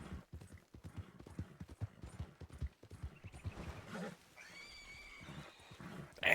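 Horse hooves clip-clop in a rapid galloping rhythm inside an 1880s Western video game, close and steady, with occasional whinny-like cries and a music-like tone entering near the end.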